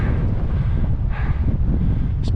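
Steady wind gusts buffet the microphone on a mountaineering trail in the Pyrenees near Lescun, a loud, continuous rumbling roar with a brief swell in the middle and no voices.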